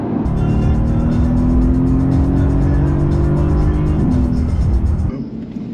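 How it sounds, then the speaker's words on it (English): A Mercedes AMG GT supercar's engine drones steadily while driving on a road trip, a loud sustained hum with slowly shifting pitch before easing off near the end. "I'm absolutely loving driving the car."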